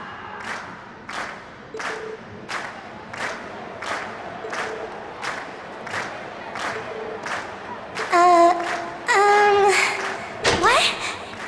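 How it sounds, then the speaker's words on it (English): A concert crowd in The Legend of Heroes: Trails of Cold Steel video game claps in a steady rhythmic beat, then breaks into loud bursts of cheering and shouting toward the end. "we've heard your cheers loud and clear"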